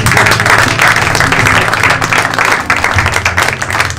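Church congregation applauding and cheering in praise of God, a dense, loud, continuous wash of clapping with voices mixed in throughout.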